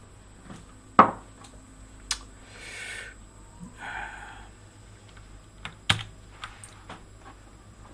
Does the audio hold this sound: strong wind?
no